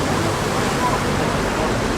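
A big river in Nis, Serbia rushes steadily, a loud, unbroken broadband wash of flowing water heard close without a break.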